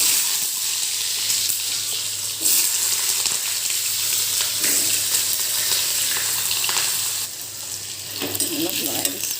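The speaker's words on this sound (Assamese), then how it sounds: "কেৰাহীত তেল গৰম হৈ গ'ল। মই এতিয়া তাত আলু দি দিম।" Potatoes go into hot oil in a wok and sizzle and crackle steadily at close range, a continuous frying hiss with faint stirring scrapes throughout.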